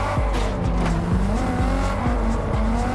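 A race car engine in Test Drive Unlimited Solar Crown revs up and down in quick repeated surges, its pitch climbing and dropping while tires squeal close and loud.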